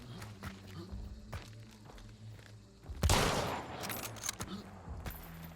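Gunfire in the game Hunt: Showdown: faint footsteps and distant thuds, then a sudden loud close shot with a crackling tail and scattered follow-up impacts.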